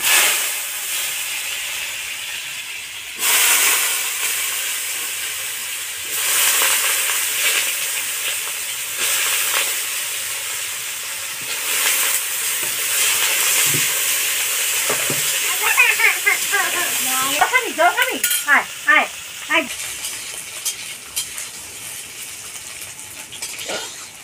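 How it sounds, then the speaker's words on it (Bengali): Potatoes fry in hot oil in a home kitchen, a steady loud sizzle and hiss broken by sharp crackling spurts, with occasional clinks of utensils near the end. "এবার আমি আলুগুলোকে ভেজে নেব"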